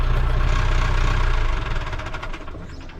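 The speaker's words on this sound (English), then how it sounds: "We've got a working engine." A repaired boat engine in Tunisia runs loud and close with a heavy low rumble and knock, then its pitch and level drop after about one and a half seconds as it settles into a softer idle.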